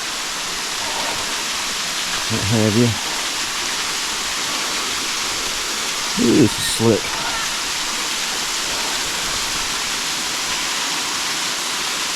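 Steady broadband roar of an Ozarks waterfall in Arkansas in spring, continuous throughout, with people talking briefly over it as they climb a muddy, slippery path nearby.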